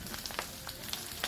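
Dinuguan, a pork blood stew, simmering and sizzling in a pot with a constant soft frying hiss broken by small scattered pops and spatters.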